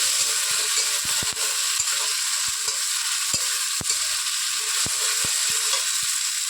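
Masala for a rohu fish curry sautéing in a pan, a steady close sizzle with scattered sharp clicks of a spatula scraping and stirring throughout.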